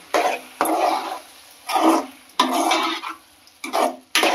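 A spoon stirs ridge gourd, tomato and mung dal in a pan in several distinct scraping strokes with brief pauses between them, close and fairly loud, with no talk.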